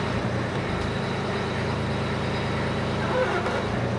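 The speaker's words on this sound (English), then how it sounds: "We switch, but I prefer to drive the tractor." A tractor engine runs in a steady, close, low rumble during pole barn repair work, holding an even level throughout with no break.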